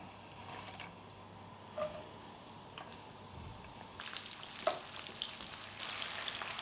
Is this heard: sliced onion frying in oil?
yes